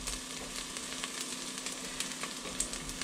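Onions fry in a tablespoon of oil in a pan, giving a steady, faint crackling sizzle with scattered small pops throughout, no voices.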